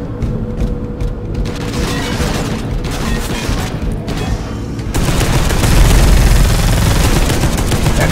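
Sustained heavy stubber gunfire from Space Hulk Deathwing rattles in a dense, loud stream, booming and growing heavier partway through, with mechanical clatter and no speech.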